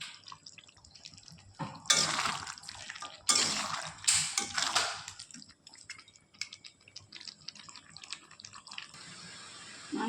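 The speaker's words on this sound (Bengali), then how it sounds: "এবার একটু ভালোভাবে নেড়ে দেব।" Chicken curry with softened onions and released juices being stirred in a cooking pot: wet scraping and sloshing bursts come in several strong surges, then fade to quieter, intermittent stirring noises.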